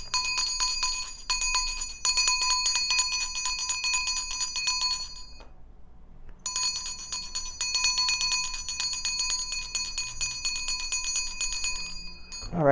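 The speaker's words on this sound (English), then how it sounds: "This is my mom's bell." A handheld prayer bell rings continuously with a bright, shimmering metallic tone, close and clear. It stops for about a second, starts ringing again for several seconds, and ends in a final short jingle.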